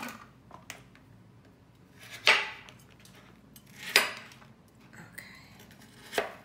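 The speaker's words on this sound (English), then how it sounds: "Just cut these in half." A knife halves strawberries on a cutting board: three crisp, separate cuts spaced a second or two apart, fairly quiet, with no talking.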